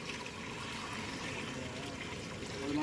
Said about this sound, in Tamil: இப்போ வந்து பருப்பு தண்ணி சேர்க்க போகிறாங்க